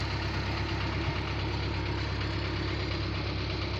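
A Taurus combine harvester's engine runs steadily while working a barley field, a continuous loud mid-pitched drone with a low rumble and no pauses.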